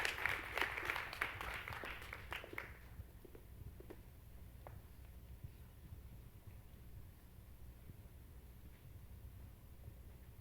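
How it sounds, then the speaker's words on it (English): School assembly applause for award recipients, a short burst of clapping from a crowd that fades within about three seconds, leaving a quiet room with a few scattered claps and faint shuffling. "Can we give a round of applause to all of our recipients"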